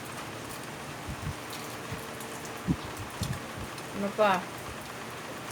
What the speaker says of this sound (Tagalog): Lakas mga ulan